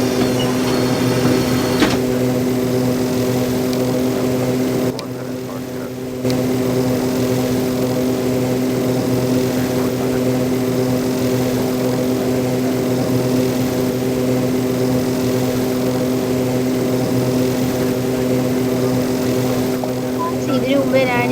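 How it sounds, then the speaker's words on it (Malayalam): An airplane takes off, heard as a steady droning engine roar with a strong tonal hum that holds throughout, briefly dipping for a moment early on before resuming at full strength. "ഫ്ലൈറ്റ് കൂടെ ടേക്ക് ഓഫ് ചെയ്തേക്കുവാണ്."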